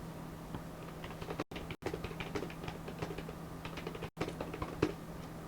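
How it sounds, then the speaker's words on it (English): Someone types quickly and steadily on a computer keyboard, with keys clattering nearby in rapid bursts over a low electrical hum, broken by a few short pauses and no speech. "I typed a lot"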